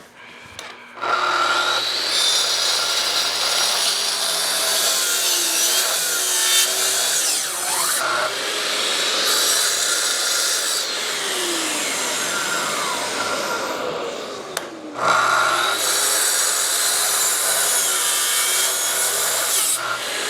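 Lumber boards being cut down to size for a CNC machine: a loud, continuous power-tool cutting roar with rising and falling pitch sweeps that runs almost the whole time, pausing briefly once. No one speaks.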